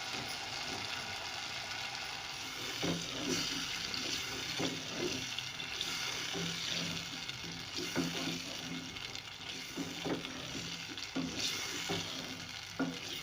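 Potatoes fry with spices in a pan, a steady close sizzle broken by repeated scrapes and clatters of stirring, moderately loud and with no voices.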